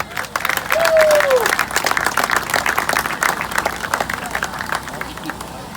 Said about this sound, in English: Nice round of applause for Shannon Hughes, please.